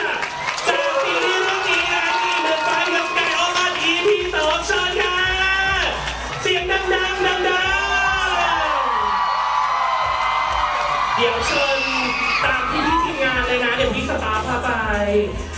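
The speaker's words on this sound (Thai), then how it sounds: "ขอเสียงปรบมือให้กับนักแสดงทั้งเจ้าท่าน" Fans at a Thai drama series fan event scream, whoop and cheer loudly for the cast in a dense, sustained crowd roar, with a host's amplified voice mixed in.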